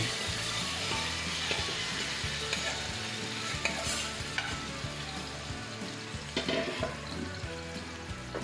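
Chicken liver sizzles loudly in hot oil while a utensil stirs and scrapes through it in repeated strokes, close up and without talk.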